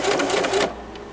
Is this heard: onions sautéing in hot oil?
no